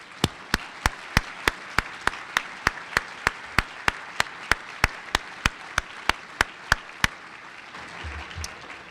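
Slow, evenly spaced claps ring out at an awards and honors ceremony, each sharp and distinct like a single pair of hands keeping a steady beat, stopping abruptly after about seven seconds.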